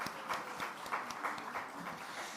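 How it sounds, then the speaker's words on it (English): Applause from a live audience at the SheShakti 2025 women's event in Mumbai, a steady wash of many hands clapping with a few sharper claps standing out. "So अभी आपके लिए भी a huge round of applause because you have been amazing"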